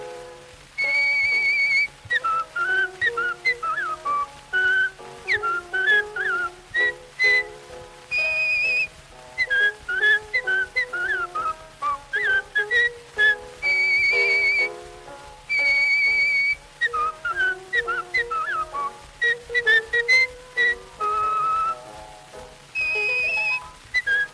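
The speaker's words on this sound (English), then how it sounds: "As he went, he whistled like a gale." Solo whistling performance in an old sound recording, a bright, warbling melody of rapid trills and held notes in phrases separated by short pauses, with no other sounds.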